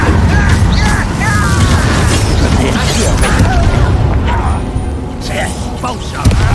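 Incendio fire spell blasting in the Hogwarts Legacy video game, a dense roaring whoosh of flame sustained loudly through the fight under game dialogue.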